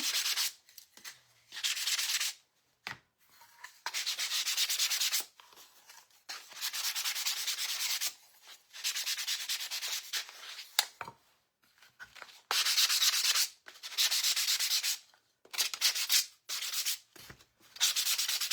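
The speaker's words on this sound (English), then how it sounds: "Sand back over this one." Hand sanding of a small wooden ornament shape, with repeated bursts of close, raspy scrubbing separated by short pauses, each stroke run lasting about a second or two.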